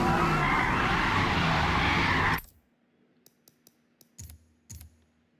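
A C5 Corvette slides in Forza Motorsport at Hockenheim, its tyres giving a loud, sustained skidding roar for about two seconds that cuts off abruptly, followed by a few faint mechanical clicks and thumps.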